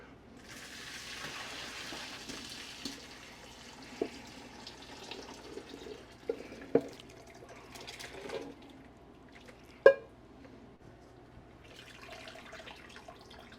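Chicken stock pours and splashes steadily through a strainer into a sink for several seconds, with a few sharp clinks of metal near the end.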